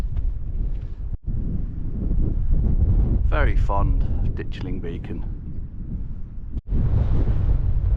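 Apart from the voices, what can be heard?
wind blowing on hilltop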